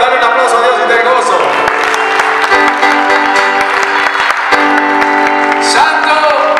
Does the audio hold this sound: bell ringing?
no